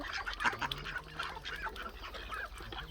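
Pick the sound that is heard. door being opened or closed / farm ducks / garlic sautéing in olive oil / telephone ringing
farm ducks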